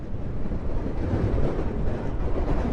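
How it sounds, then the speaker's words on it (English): Water rushes continuously in a stream beside a herbal garden in Kashmir, a close, steady broadband roar with some wind noise on the microphone and no talking. "So much water flowing."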